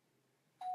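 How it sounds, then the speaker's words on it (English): A doorbell sounds suddenly after a quiet room hum, a single sustained electronic tone that starts loud and holds steady to the end; no voice. "It's my doorbell."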